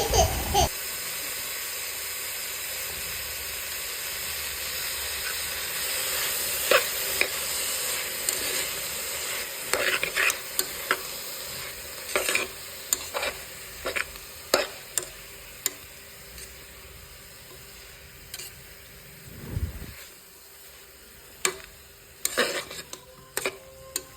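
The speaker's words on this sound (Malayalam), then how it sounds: "തക്കാളി ഇട്ടതിന് ശേഷം നന്നായി അത് ഇളക്കി കൊടുക്കാം" Onions and tomatoes fry in a pan for an egg curry while a spoon stirs them, a soft steady hiss broken by scattered scraping clicks and knocks.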